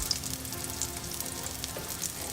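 Vegan butter on an onion roll sizzling on a grill, a soft, steady crackle with a few small pops, fairly quiet and close.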